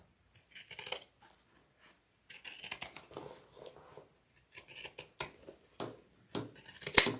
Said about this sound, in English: Let's get a couple corners with these pinking shears.